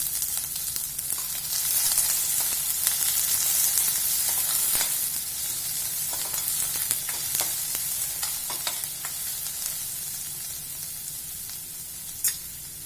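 Mustard seeds and chopped onion frying in hot oil, a dense continuous sizzle with scattered pops and crackles, close and steady throughout, no voices.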